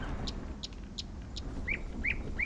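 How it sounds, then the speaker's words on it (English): Bird chirping in the Aztec level of the video game Human Fall Flat: four short evenly spaced high chirps, then three rising whistled calls, moderately faint over a low steady rumble, with no talk. "It sounds like there's a bird up here."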